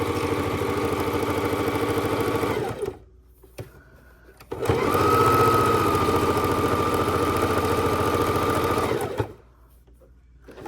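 Sewing machine stitching around the edge of a fabric drink coaster, a steady close motor whir in two long bursts separated by a short quiet pause, alone without talk.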